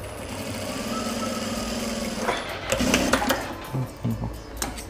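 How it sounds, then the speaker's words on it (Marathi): A sewing machine stitches a double-strip back pocket, running steadily for about two seconds, then starting and stopping in short bursts close by while a voice talks over it. "या पद्धतीने इथे असं टीप मारून घ्यायची व्यवस्थित."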